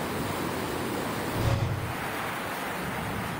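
Rushing floodwater carrying mud and logs roars in a steady, dense wash during heavy rain in Pinamalayan, Oriental Mindoro, continuous and loud with a brief surge midway.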